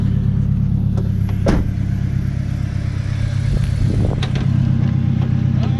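A boosted Honda CR-V engine drones loudly and steadily up close, with a few sharp clattering bursts breaking through near the start and again near the end, no voices over it.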